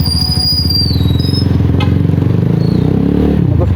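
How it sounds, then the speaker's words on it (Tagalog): A Loncin GP 250 motorcycle engine, run on diesel oil after an oil change, runs steadily and loudly up close with an even throbbing drone and a thin high whine above it, without pause. "Nagustuhan ko siya kasi ang tining sa makina, saka wala masyadong vibrate."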